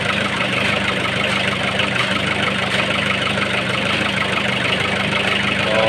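A Nissan CD17 diesel engine, which had overheated, idles steadily right after starting, a loud continuous rumble with a low knocking undertone throughout.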